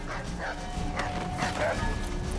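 Dogs barking in Assassin's Creed 3 gameplay, several sharp yips and barks scattered over a noisy game background of mixed ambience.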